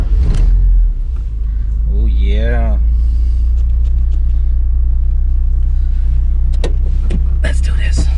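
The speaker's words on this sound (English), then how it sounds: "All the engine noises of 1984." Idling 1984 Porsche 944 engine with a steady low rumble throughout, a brief rising rev near the start, and someone speaking briefly over it.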